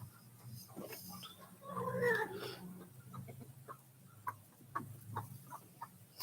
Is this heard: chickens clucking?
yes